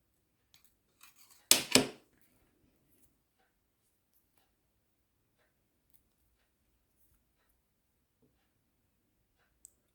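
Wire cutters snipping wire for a wire-wrap pendant, a few faint clicks followed by two sharp, close snips in quick succession, then near silence with an occasional tiny tick.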